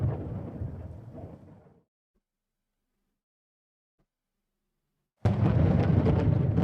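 Thunder from a storm in the space strategy game Distant Worlds 2 rumbles loudly, fades into silence, then abruptly returns at full strength.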